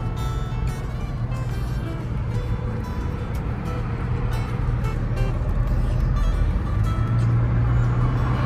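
A car driving on the road toward Antwerp, Belgium: a steady low interior rumble of engine and tire noise at cruising speed, continuous and moderately loud.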